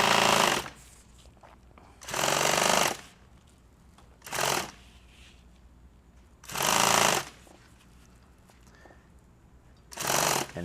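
Sewing machine stitching nylon PALS webbing for tactical gear, running in five short buzzing bursts with quiet pauses between them, close and loud.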